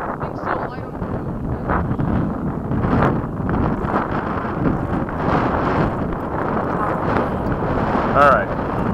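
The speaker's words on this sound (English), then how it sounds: "the wind is totally pushing it around" Steady wind buffeting the microphone at an outdoor RC jet flying field, a constant loud rumble with faint voices under it.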